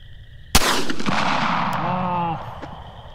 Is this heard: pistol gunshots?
yes